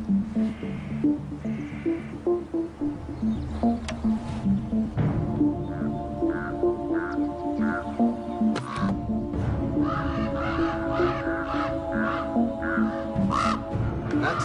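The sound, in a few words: common ravens calling near their nest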